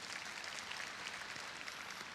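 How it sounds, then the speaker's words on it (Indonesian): Applause from a church congregation during a sermon, a dense, steady wash of many hands clapping together at a fairly quiet level with no voices over it. "Kita beri tepuk tangan untuk kebenaran ini."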